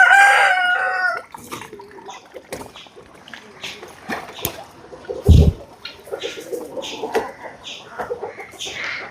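Chickens cluck and a rooster crows on a small farm while corn and fish are scattered as feed, the calls fairly close over scattered thumps and rustles, with a voice talking between them.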